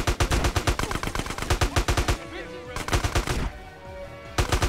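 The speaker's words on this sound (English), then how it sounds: "I immediately get shot." Gunfire in GTA: San Andreas includes shotgun blasts. Rapid, loud bursts of shots pound one after another, pause briefly, then resume in a dense, close volley.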